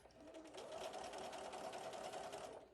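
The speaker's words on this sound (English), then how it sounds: "I want my sewing machine needle all the way over to the right" A sewing machine top stitches ironed fabric strips for a cross stitch portfolio bag, its regular presser foot guiding along the edge. The motor hums close and steadily with a rapid needle chatter, running without a break and with no talk.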